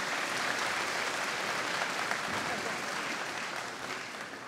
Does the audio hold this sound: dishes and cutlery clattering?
no